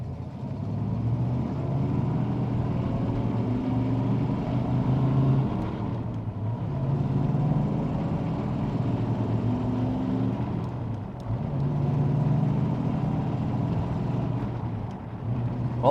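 A 1979 Pontiac Trans Am with a manual transmission pulls away from a stop, its engine note rising, dipping at each shift and climbing again through the gears, a steady loud rumble with no talking.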